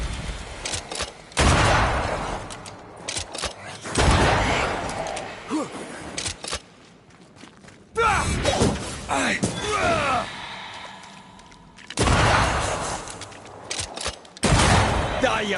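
Gunfire from a corpse enemy in Banishers: Ghosts of New Eden, several loud bursts of shots and impacts that come and go in clusters amid game effects, with gasps and voices talking between them.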